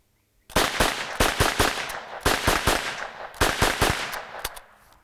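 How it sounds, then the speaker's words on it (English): A G.S.G. MP40 9mm submachine gun fires loud, close rapid bursts of shots separated by brief pauses, then stops abruptly as it malfunctions, with only a faint tail of noise after. "Quit firing it just to see how fast the malfunction happens"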